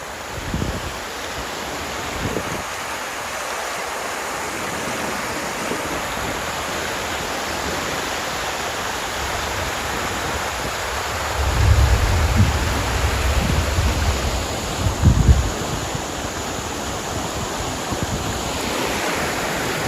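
Floodwater rushes through the Sabarmati river below Dharoi dam in a dense, continuous roar, with wind buffeting the microphone and a few low thumps near the middle and end.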